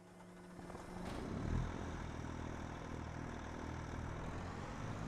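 A sugar beet harvester engine in Farming Simulator 25 turns over and settles into a low, throaty, steady diesel rumble, moderately loud and continuous with a brief surge as it catches.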